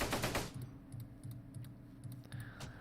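Gunfire from units in the Close Combat WWII strategy game, set in Normandy bocage: rapid rattling bursts of small-arms fire over a steady low rumble, with a brief louder blast at the start.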